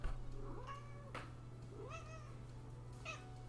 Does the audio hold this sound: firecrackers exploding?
no